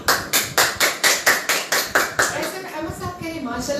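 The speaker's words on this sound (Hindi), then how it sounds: "तालियां भाई, तालियां बच्चों के लिए।" A run of about ten quick, even hand claps applauding children on a kids' TV show, loud and close, fading into a voice speaking over a soft background.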